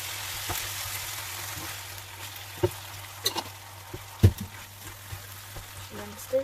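Carrots stir-fry with tomato sauce in a pan, giving a soft, low bubbling sizzle beneath a few sharper knocks and scrapes of stirring, fairly quiet overall.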